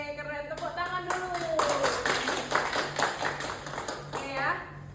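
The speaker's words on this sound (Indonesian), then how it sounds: "Wih, keren, tepuk tangan dulu." Students in a classroom clap together in a quick burst of rhythmic hand claps, with a voice speaking at the start and children's voices mixed in.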